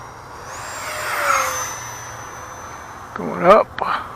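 An FMS Yak-130 RC model jet makes a fast, low pass, its rising and falling whine sweeping past, then a louder burst near the end as the afterburner effect kicks in.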